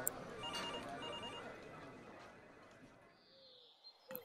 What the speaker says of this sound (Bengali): কয়েকদিন পর এক সকালে সত্যবাবুর ফোন পেয়ে খানিকটা অবাক হয়েছিলাম।